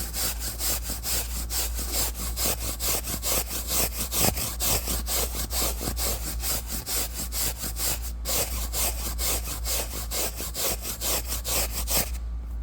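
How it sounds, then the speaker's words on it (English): A brush scrubs a car seat in fast, rhythmic back-and-forth strokes, loud and close, running steadily with an even scratchy texture until a short pause near the end. "So as you can see, there's little areas where you can see as you scrub it."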